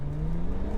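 A tuned 370 bhp BMW 335d diesel accelerates hard in first gear, engine note climbing steadily in pitch as revs rise past 5000 RPM, loud and close in a brief burst.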